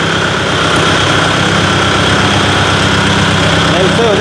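A Kubota MU 5502 50 HP tractor engine idling, a loud, steady low diesel rumble with even vibration, running continuously up close while someone talks over it.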